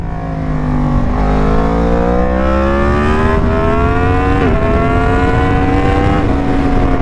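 A Yamaha MT-10 fitted with a bigger rear sprocket is ridden hard, its loud engine rising steadily in pitch through two quick upshifts, with constant wind rush close by.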